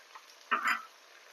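Ginger garlic paste with mint and coriander leaves stirred in a hot pan for veg salna: a soft scrape and sizzle of the spoon in one short, quiet stroke.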